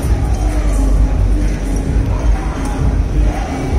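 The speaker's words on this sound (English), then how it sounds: "The crowd is swelling up," A crowd gathers at an indoor BMW 3 Series car launch, a dense, loud murmur of many overlapping voices and background babble that stays steady throughout.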